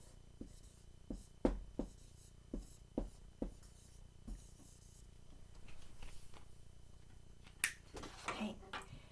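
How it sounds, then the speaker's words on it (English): A marker or chalk writes a word on a classroom board, giving a series of short, faint taps and scratches spaced irregularly, quiet and close with no talking. "I'm going to write that on the board for you to see bigger."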